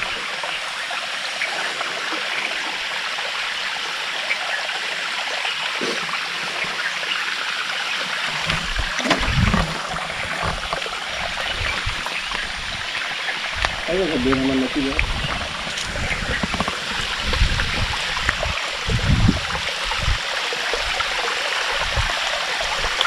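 Vempalli waterfall in Rayalasema forest country, water rushing in a loud steady broadband roar throughout, with low thumps and some brief voices breaking through midway.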